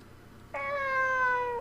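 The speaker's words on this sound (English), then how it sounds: "The cat's meowing on the other side." Cat meowing in the video game Fragile Dreams, heard from the other side of a wall: one long drawn-out tonal meow that starts abruptly after a quiet moment and holds steady and fairly loud until the end.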